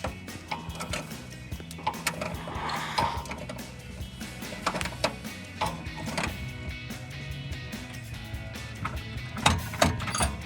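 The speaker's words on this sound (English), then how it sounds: "take our channel locks, loosen this nut" Channel-lock pliers loosening a nut on a Jeep Wrangler JK drag link give a busy run of close metallic clicks, scrapes and small knocks, denser and louder toward the end, with no talk.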